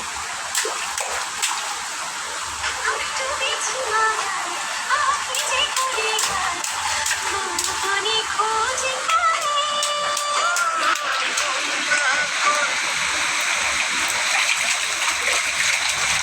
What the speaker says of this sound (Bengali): দেখেন বারিন্দায় পানি চলে আসছে